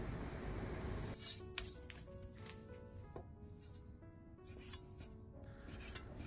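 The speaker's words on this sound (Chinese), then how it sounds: "最后再切成粗细均匀的丝。" A knife slicing pork tenderloin into even strips on a cutting board, soft rubbing and scraping strokes repeating quietly in close, faint detail, with light background music and no speech.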